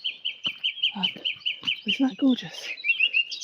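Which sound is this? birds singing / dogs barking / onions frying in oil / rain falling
birds singing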